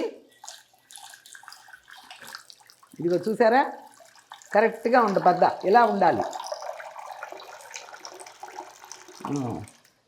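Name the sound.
pouring cooked sweet into water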